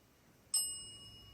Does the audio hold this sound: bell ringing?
yes